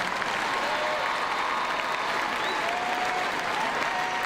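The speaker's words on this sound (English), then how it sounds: "Please give these students a round of applause" Sustained applause from a graduation crowd for the high school class of 2019, a dense, even roar of many hands clapping without pause for several seconds, loud and full, with faint whoops mixed in.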